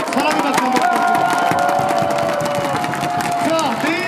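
A baseball stadium crowd at a KIA Tigers game cheers and applauds the cheerleaders, a steady loud roar of clapping and voices filling the whole stretch while an announcer talks over it.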